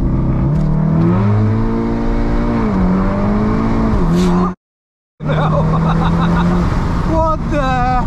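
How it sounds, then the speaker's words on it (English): A 400 hp Mark 7.5 VW Golf R on a launch-control start, loud and close: the engine holds a droning note, then climbs in pitch, cuts out briefly, and pulls again with rising, wavering revs. "let's slap it straight into launch control."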